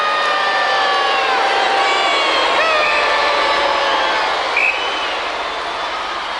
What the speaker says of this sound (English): the crowd are giving him the bird